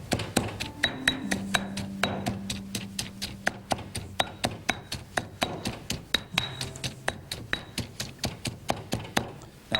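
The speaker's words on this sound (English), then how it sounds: "As long as you have a mortar and pestle or something to grind in, you're set for making all kinds of pastes." A mortar and pestle pounding paste, heard as a steady run of sharp, close knocks, roughly three per second, continuing for about ten seconds with a faint ringing on some strikes.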